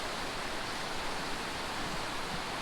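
Steady rushing water pours down rock walls into a stream along the Fiery Gizzard Trail near Sycamore Falls, a dense, constant broadband roar with no breaks, close and loud, alone without voices.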